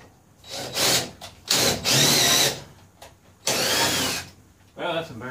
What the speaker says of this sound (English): let's get a couple of tech screws in